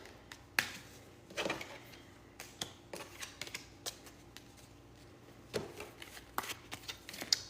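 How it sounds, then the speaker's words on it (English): A deck of oracle cards is shuffled by hand in a quiet room, giving soft riffling bursts and sharp card snaps in an irregular rhythm, close and faint. "All these cards came out of the deck. So we're gonna have to reshuffle."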